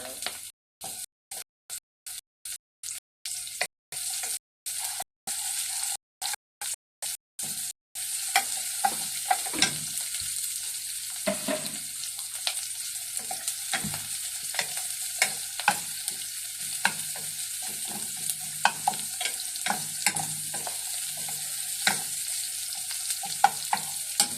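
Onions sizzle and fry in a pan for about 24 seconds, with steady crackling hiss and frequent stirring scrapes; the first eight seconds cut in and out in short bursts before running continuously.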